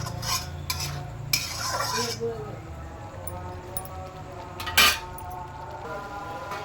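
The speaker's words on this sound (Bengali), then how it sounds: "মশলাটা আমি ঢাকনা দিয়ে দিয়ে কষবো।" Masala for mutton bhapa is stirred and fried in a pan under a lid, giving repeated metallic scraping and light clinks of a spoon against the cookware, with one sharper clank, close up over a low background hum.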